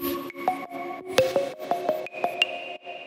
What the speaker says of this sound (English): I did the bell sound go a bit crazier